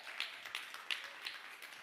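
Audience at a keynote talk on race and disability clapping in a sparse, light way, a few distinct slaps standing out over a faint background patter.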